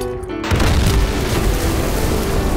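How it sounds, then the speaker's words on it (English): A grenade blows up in Doom 2 with the Project Brutality mod, a single loud, deep boom that bursts in suddenly and rumbles on for a couple of seconds. "so I wanna throw a grenade over there"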